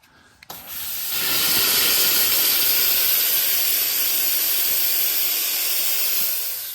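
A Limatic UVC Carbon dry steam vacuum machine releases an adjustable steam jet: a loud, steady, broadband hiss that starts abruptly after a brief quiet moment and holds constant until it tapers slightly at the end.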